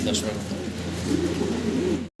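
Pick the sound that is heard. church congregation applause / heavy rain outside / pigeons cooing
pigeons cooing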